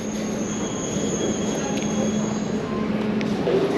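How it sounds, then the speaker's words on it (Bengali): A Dubai metro train pulls in at the platform with a steady rumble of the cars and a high, sustained wheel squeal near and fairly loud. Brief clicks come through near the end. "এটাই ট্রেন, মেট্রো ট্রেন"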